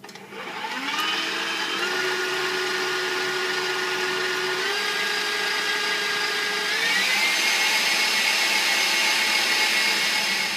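An electric mixer beats cookie dough with a steady motor whine. The pitch steps up as the speed rises, and it runs loud and close for about ten seconds with no talking.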